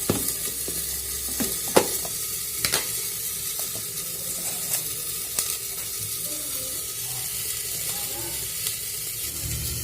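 Food frying in a covered wok on a kitchen gas stove, a soft steady sizzle with occasional clinks and knocks, fairly quiet throughout and no talking.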